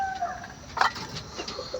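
A hen, a golden and pumpkin-colored laying hen, clucks softly in a few short calls over faint background noise, with no voices.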